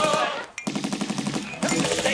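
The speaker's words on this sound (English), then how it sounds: "Gunfire? What the hell do we have gunfire for?" Rapid machine-gun fire from a Doctor Who episode crackles in a quick, evenly spaced burst of close, loud shots, preceded by a brief rush of noise, with no speech over it.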